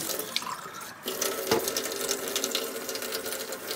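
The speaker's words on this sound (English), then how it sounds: "Okay, so now what we're going to do is run the water." Water runs steadily from a Kangen SD501 water ionizer after citric-acid cleaning, a continuous close splashing flow with a brief louder gush midway.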